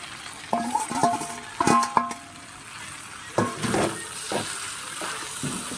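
Fried prawns stirred into flat beans in a frying pan, with spatula scrapes and soft sizzling in short bursts, a quieter lull, then more stirring strokes, all close up and moderately loud.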